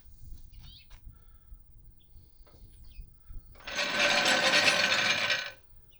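An impact wrench on its lowest setting tightens lug nuts on a lifted 2020 Silverado 6.6 Duramax 4x4 wheel, a loud buzzing burst of nearly two seconds after quiet shuffling and faint clicks.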